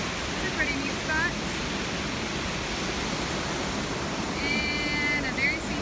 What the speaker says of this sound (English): we are here at the base of the Upper Whitewater Falls